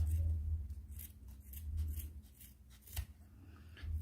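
Scissors snip and trim the tail of a crocheted amigurumi rabbit, rounding it into shape, giving a series of quiet, close crisp cuts with soft rustling between them and no talking.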